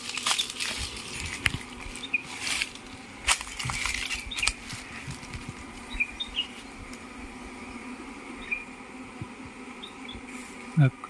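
Faint buzzing of honey bees close by at a beekeeping site during honey extraction, broken by scattered clicks and rustling handling noises, with a quiet background hum.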